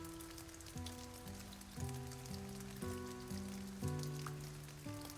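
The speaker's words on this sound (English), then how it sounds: "The cold rain was still pouring down on him" Steady rain patters on a surface with a soft, continuous hiss in the video game Nameless: The One Thing You Must Recall, while a gentle melodic tune plays over it.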